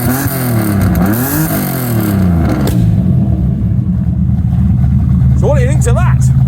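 A TVR Tamora 350 BHP muscle car engine revs loud and close in rising and falling sweeps, then drops to a deep, throbbing idle while a voice briefly talks near the end.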